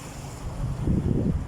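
Sea waves washing in at a beach, a low steady rumble of surf swelling louder toward the end, mixed with wind buffeting the microphone.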